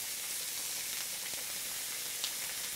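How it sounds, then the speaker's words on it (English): Italian sausages sizzle steadily in a pan as they brown and crisp, a continuous close hiss with one faint tap near the end where tongs turn a link. "Let me grab my tongs and flip my sausage."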